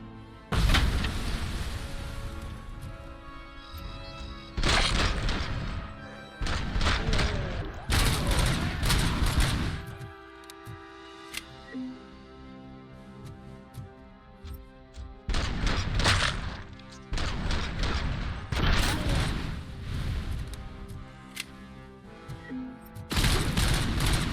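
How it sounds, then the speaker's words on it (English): Gunfire and grenade explosions in the Robocop: Rogue City video game: loud bursts of rapid shots and heavy booms come in repeated clusters, separated by brief lulls with a lingering game ambience and faint musical tones. "Shooting a grenade detonates it."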